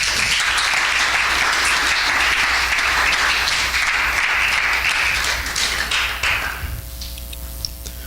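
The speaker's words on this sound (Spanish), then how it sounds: "Dele un aplauso fuerte al Señor" A crowd claps loudly and steadily, a dense wash of applause that thins out and fades near the end.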